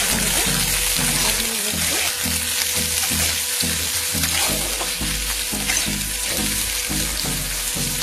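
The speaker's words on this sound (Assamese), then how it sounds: "এতিয়া মই ইয়াত আটাইখিনি পিঁয়াজ আদা নহৰু বিলাহী এই গোটেইখিনি বস্তু" Onion, ginger, garlic and tomato fry in hot oil for a chicken masala. A loud, dense sizzle carries on throughout, with a rhythmic low pulsing underneath, heard up close.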